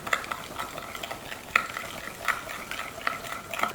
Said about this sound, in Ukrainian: Все добре об'єднуємо між собою.